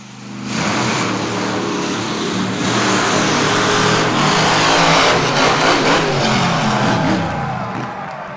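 A racing truck at a Tuff Trax off-road event revs hard as it launches over a jump, its engine roaring loud and near for several seconds with surging throttle before easing off.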